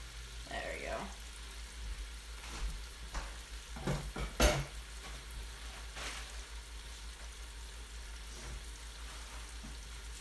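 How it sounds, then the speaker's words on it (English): Mushrooms and onion frying in a pan and being stirred, a steady soft sizzle with scattered scraping clicks of the utensil against the pan, moderately quiet and close. "So start to get it all mixed together, get the onion all kind of separated"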